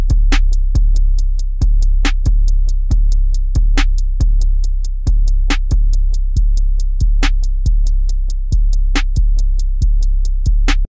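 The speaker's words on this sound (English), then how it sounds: "We're going to apply some distortion and compression effects, and then this will allow us to really shape the 808 into exactly what we want for our production." 808 kick shaped with distortion and compression in iZotope Neutron, a steady loop of loud punchy booms with sharp clicky transients in a driving rhythm, thick and heavy low end throughout.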